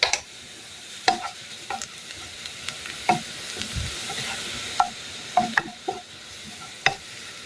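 Cumin goes into frying garlic and onions browned in oil, giving a soft steady sizzle with repeated sharp spoon taps and scrapes against the pan, close by.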